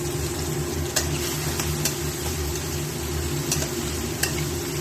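Shredded carrots and cabbage frying in a pan with salt and turmeric, a steady close sizzle under a low rumbling hum with a few sharp clinks of a stirring utensil.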